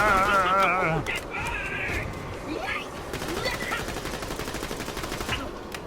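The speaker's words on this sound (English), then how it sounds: "the pistol I'm using already operates like a submachine gun" Rapid pistol fire in Borderlands: The Pre-Sequel, the gun cycling like a submachine gun in a steady chatter of shots under game sound effects and voices.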